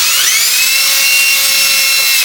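A Bosch hinge drill bit boring hinge holes runs as a steady, loud high-pitched whine that holds constant throughout, with no talking.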